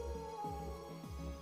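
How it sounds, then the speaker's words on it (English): Warhounds in the video game Trails to Azure let out repeated falling howls, about three in quick succession. They sound moderately distant over a steady sustained drone. "Howling?"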